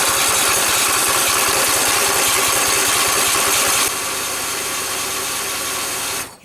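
A flood-damaged Husqvarna small engine running loudly and steadily close by after repair, with a dense fast chugging rumble that drops slightly midway and then cuts off abruptly at the end.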